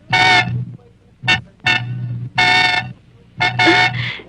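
A car horn sounds in several separate blasts of uneven length, loud and close, with short gaps between them.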